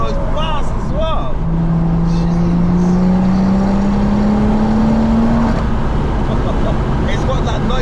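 A stage 3 big-turbo BMW M140i hatchback pulls hard, its engine note climbing steadily in pitch through a loud acceleration run before easing off, with voices talking over the roar.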